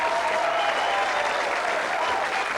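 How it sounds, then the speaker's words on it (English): A studio audience at a 1986 British school quiz show claps in a dense, sustained burst of applause, steady and loud throughout with a faint crowd murmur underneath. "Let's give her a big round of applause."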